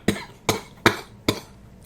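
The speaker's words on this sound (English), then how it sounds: "Sorry about this cough." Four sharp coughs from one person, evenly spaced about every 0.4 seconds, close and fairly loud with brief quiet gaps between them.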